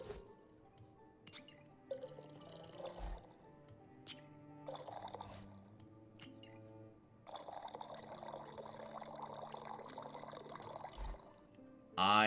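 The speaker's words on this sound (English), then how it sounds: "I am doing a bad job at pouring today." Liquid poured and dripping into a drinking vessel at a tavern-style drink station, with short splashy pours and drips spread across the stretch, moderately quiet, separated by brief pauses and light handling clinks.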